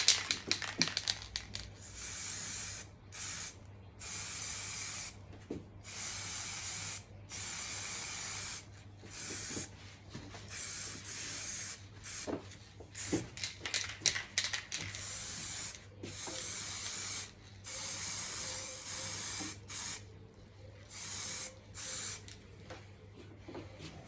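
Spray gun laying a light dust coat of paint onto an MG Maestro Turbo, a series of steady hissing bursts of varying length separated by short pauses, close and alone over a low background hum.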